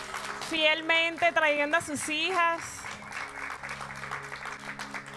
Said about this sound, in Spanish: Y un aplauso a todas las mamitas que estuvieron aquí todos los viernes